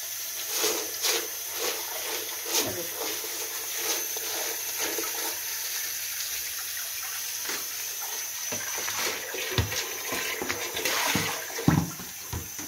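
Tap water runs steadily into a sink while brined chicken livers are rinsed, a continuous splashing wash with intermittent louder gushes and clatter near the end.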